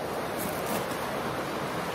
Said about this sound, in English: that water's pouring off the rocks